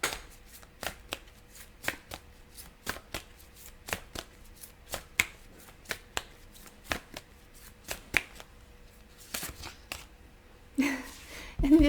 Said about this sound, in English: Let's get some more cards from this deck, the Moonology deck.